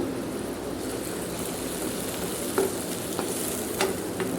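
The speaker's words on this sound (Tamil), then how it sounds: "இதை நல்லா மிக்ஸ் பண்ணி விட்டுட்டு ஒரு 2 மினிட்ஸ்க்கு நல்லா கொதிக்க விட்டுடலாம்" A mixture with palm sugar boiling and bubbling in a pan, a steady close frying hiss with a few light clinks of stirring near the end, no voices.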